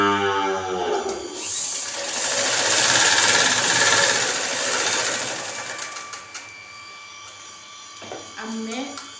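An electric sewing machine stitches a blouse in a home, whirring loudly in a sustained run that slows and stops, while someone talks over it at the start and end.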